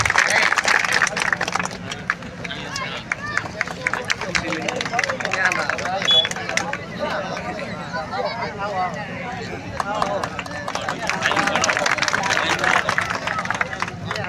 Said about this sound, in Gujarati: જોરદાર તાળી સાથે આપણે સ્વાગત.